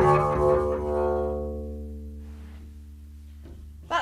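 A double bass is bowed close to the bridge, producing an eerie, creaky, scratchy tone; low notes ring out, then fade into a quieter, sustained creak, heard alone and close.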